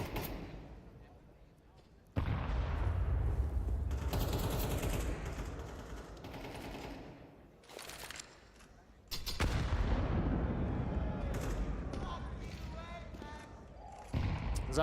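Gunfire in a professional Counter-Strike match between Team Vitality and MOUZ at the IEM Dallas 2025 grand finals, bursts of rapid shots and sharp cracks under excited casters' commentary, loud in stretches with brief quieter gaps.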